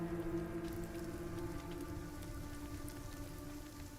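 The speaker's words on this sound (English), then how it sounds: "the rain outside" Faint, steady rain falling outside, a soft continuous patter under a low ambient hum, used as background ambience for a Warhammer Fantasy tabletop roleplaying session.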